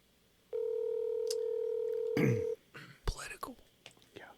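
A phone call being placed to a Tops grocery store, with a steady dialing tone held for about two seconds, clear and close, followed by soft whispered speech and small clicks.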